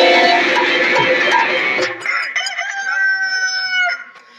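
A rooster crows loudly and close by in one long, drawn-out call, followed by softer clucks and other fowl noises.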